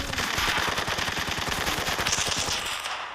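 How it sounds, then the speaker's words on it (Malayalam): Rapid automatic gunfire rattles in a fast, steady burst in a shooting video game, loud and continuous, then thins out near the end with no talking. "കേട്ടത് സ്നൈപ്പ് അടിക്കുന്നുണ്ടല്ലേ."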